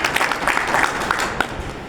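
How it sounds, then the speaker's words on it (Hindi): Audience applause welcoming guests at a Hindi-language gathering, a dense wash of clapping from many hands sustained evenly throughout at close range, with no voices over it. "इनका भी जोरदार ताली साथ अभिनंदन करता हूँ।"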